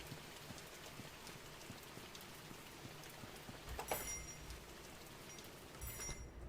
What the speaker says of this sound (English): The rain is loud as fuck.